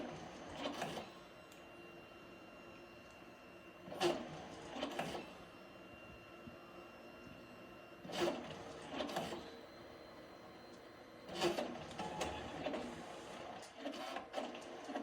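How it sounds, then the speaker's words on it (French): A photo booth printer pushes out a print, a faint, steady mechanical whir broken every few seconds by louder clunking and ratcheting bursts of the feed mechanism, with no talking. "je peux aussi imprimer la photo immédiatement et la photo va sortir"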